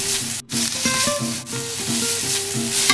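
Garlic sizzling loudly in a pan with onion and carrots for egg fried rice, a steady bright crackle broken by a brief drop near the start and scraping stir strokes throughout, with no talk.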